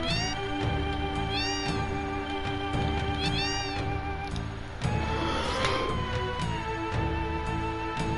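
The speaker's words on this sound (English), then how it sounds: "it is literally a house of cats." Many cats meow inside a house in Final Fantasy 7, with repeated high meows over a dense, steady layer of game music and ambience, loud and close throughout.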